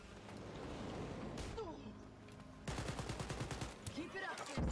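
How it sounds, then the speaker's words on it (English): Video game gunfire in a multiplayer shooter, with a rapid run of shots in the latter half, each burst sharp and close, following quieter game ambience with faint chatter underneath. "if you hear me shooting a gun, it's not because we're in stealth mode"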